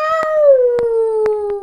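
A person's voice imitates a wolf howl during a children's animal-feeding game, one sustained, slowly falling wail rising to a peak and tapering off, close and fairly loud, with soft clicks and taps in the background.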